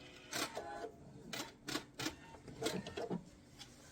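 Quilt binding fed through a sewing machine, with short quiet bursts of rapid mechanical stitching separated by pauses, as if reversing and then sewing on to the end.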